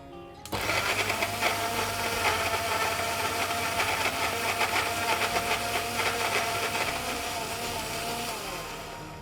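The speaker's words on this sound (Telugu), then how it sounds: "ఈ మిక్సీ జార్లో కీరా దోస ముక్కలు ఆపిల్ ముక్కలు కొత్తిమీర అల్లము తురిమింది" Mixer grinder jar whirring loudly as it blends cucumber pieces, apple pieces, coriander and grated ginger, a steady dense motor drone starting abruptly and running continuously, close and alone.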